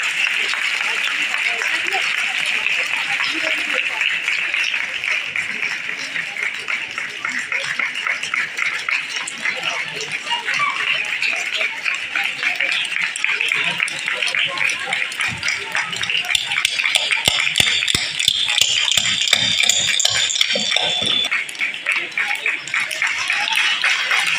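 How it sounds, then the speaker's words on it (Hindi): A school audience claps at an annual prize distribution ceremony, producing steady, dense applause throughout that swells louder toward the end, with scattered voices mixed in. "खड़े होकर उनका इस्तकबाल करें, तालियों के गूंज में उनका इस्तकबाल करें।"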